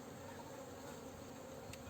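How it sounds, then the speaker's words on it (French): Honeybees buzzing at a hive entrance while frames of food stores are pulled out, a steady continuous hum of many insects, faint and uniform throughout. "les abeilles qui sont devant moi, là, qui essayent de rentrer"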